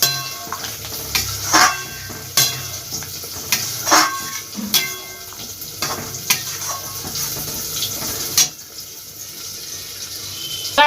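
Potol masala with yogurt and cashew paste cooking in a pan, heard as intermittent scraping stirs and spoon clinks over a soft sizzle, the sharp strokes landing irregularly every second or so.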